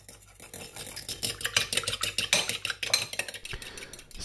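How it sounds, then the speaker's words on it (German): Egg yolk whisked with milk in a bowl for a glaze on a Linzer-style apple tart, giving a busy run of quick clinking, scraping strokes against the dish, close and steady with no talking. "können wir ja schon mal ein Eigelb aufschlagen und mit Milch mischen"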